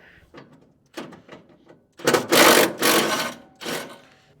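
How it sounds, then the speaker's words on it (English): Lag bolts pulled out of the fuel tank mount on a new sawmill, a few faint ticks followed by loud grinding, ratcheting bursts close by. "We gotta pull the lag bolts out of that."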